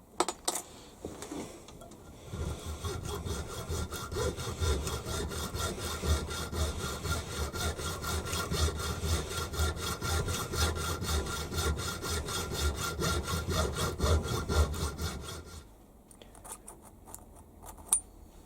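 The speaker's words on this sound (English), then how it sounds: "I'll hacksaw 4 grooves" Hand hacksaw cutting four grooves about 18mm down from the top face of a metal workpiece in a shed workshop, a steady rapid back-and-forth rasping that runs loud and close for about thirteen seconds before stopping.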